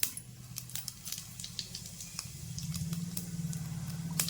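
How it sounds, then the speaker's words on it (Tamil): Mustard seeds crackling in hot oil for a garlic kuzhambu, a quiet, fast scatter of sharp pops over a low sizzle that builds slightly toward the end. "கடுகு பொரியிற சத்தம் வருது பொரியுது"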